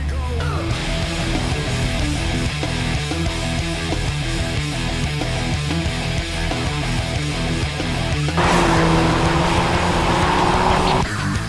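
A powerful Mercedes-AMG sports car engine roars continuously, shifting through gears with rising pitch, then a louder, higher whine near the end as it accelerates hard.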